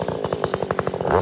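Stihl chainsaw revving close and loud, with a rapid pulsing two-stroke rattle that rises slightly toward the end, no voices over it.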